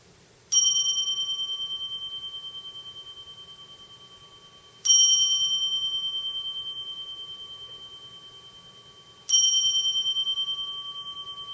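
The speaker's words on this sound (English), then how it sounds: "The Jikijitsu begins the first period of zazen by sounding the bell 3 times." A Zendo bell struck three times at even intervals to open a period of zazen, each clear metallic ring decaying slowly into near silence.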